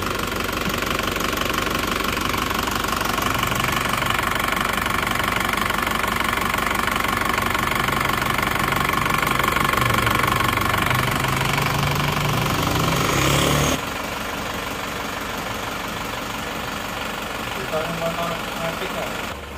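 A cold Isuzu Panther diesel engine idling close by, a steady dense knocking rumble that runs the whole time and drops slightly in level partway through.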